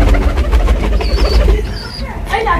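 Frill pigeons coo in soft, repeated throaty bursts close by, with faint chirps and rustling mixed in and some background voice underneath.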